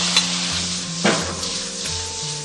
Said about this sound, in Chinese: 我们下入鹿茸菇，翻炒20秒左右